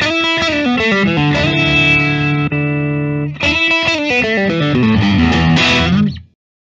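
A 2021 Fender 51 Stratocaster, a Japan-made website exclusive electric guitar, plays loud distorted chords through effects, sustained notes shifting in a riff before ringing out and cutting off, with no voices.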